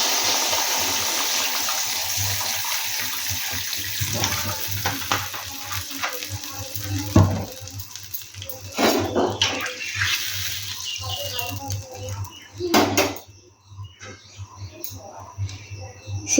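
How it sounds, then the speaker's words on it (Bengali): Water is poured into a cooking pot for homemade chicken soup, a continuous rushing splash with some clatter and stirring noises, loud and close; a voice speaks briefly in the middle. "জলটা দিয়ে দিচ্ছি এবার"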